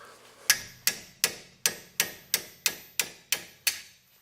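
Sharp hammer taps on a wrench to break loose a brake caliper bolt during a disc brake job, nine evenly spaced metallic strikes, close and fairly crisp, with no voices.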